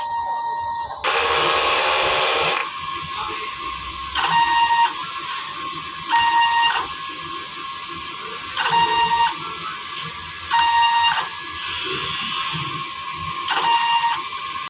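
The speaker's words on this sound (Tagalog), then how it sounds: "Ganito naman mag-head clean." A DTF printer running a head cleaning cycle whirs steadily while a series of short electronic beeps sound in a regular pattern, with a louder burst of mechanical noise near the start.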